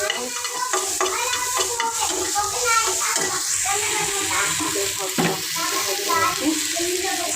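Onions sizzle and crackle in a pan with stirring scrapes throughout, close and steady, while a voice talks faintly in the background.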